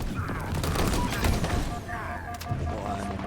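Dense gunfire and explosive blasts in Halo Infinite, a loud continuous barrage with overlapping bursts and low rumbling booms, with game voices mixed in.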